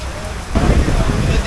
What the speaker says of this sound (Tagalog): ang lakas ng buhos ng ulan